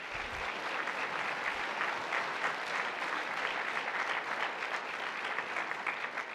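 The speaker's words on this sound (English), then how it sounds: "Can we please give them a round of applause?" Audience at an annual chamber meeting and awards banquet applauding, a dense, steady wash of many hands clapping throughout, fairly close and loud, with no talk over it.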